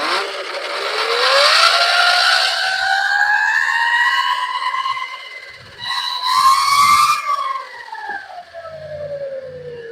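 A Tuttio Soleil01 electric dirt bike wheel spins at speed, its loud electric whine rising steadily in pitch, dipping briefly, surging again, then winding down near the end.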